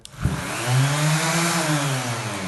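Metabo round random orbital sander switched on, a click followed by the motor spinning up into a steady loud whirring hum that holds to the end, heard close and alone.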